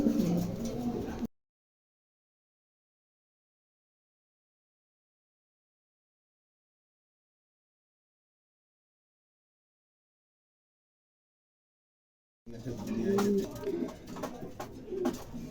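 A pair of Lahori pigeons cooing in a showroom, low murmuring coos in two short bursts separated by a long stretch of silence, fairly close.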